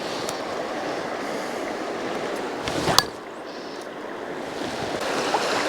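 Rushing water at the head of a rapid on the Cowlitz River, a steady broadband roar that fills the clip with a brief louder splash near the middle, no talking.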